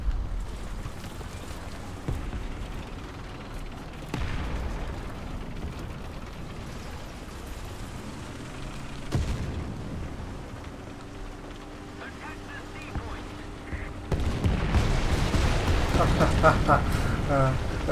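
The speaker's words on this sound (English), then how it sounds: "Come out with the artillery." Artillery shells strike in War Thunder during a Sherman M4A3 (105) tank match, several deep booming impacts spaced apart with rumbling aftermath, the last blast heavier and sustained.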